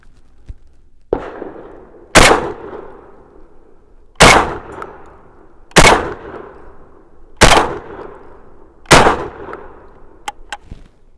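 A Panzer Arms BP12 Gen 2 shotgun firing Federal 2 3/4 inch rifled slugs, five loud booming shots in quick succession about a second apart, each with a short ringing tail, close by.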